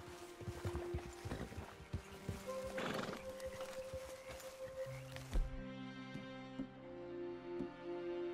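Horses in the video game Red Dead Redemption 2 clop along with steady hoofbeats and give a whinny, quiet and fairly near, ending in a low rumble and held musical tones.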